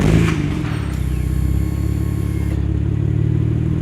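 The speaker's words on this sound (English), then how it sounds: "what the car sounds like now with the Nismo exhaust" Nissan R33 GT-R with its RB26 engine and Nismo exhaust, a 1998 Autech 40th Anniversary model, fires up and settles into a steady, mild low rumble at idle, close and loud with no talk.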